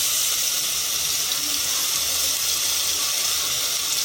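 Green pea paste for koraishutir kochuri filling hits hot oil in a pan, giving a steady, even sizzling hiss with no talking.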